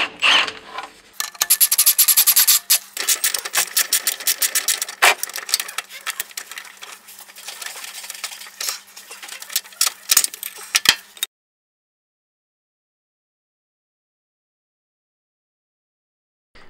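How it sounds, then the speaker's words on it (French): Tool working loose the anti-torque engine mount on a Twingo II 1.2 petrol, with close rapid ratcheting clicks and scraping for about ten seconds, then silence. "Dévissez le support anti-couple."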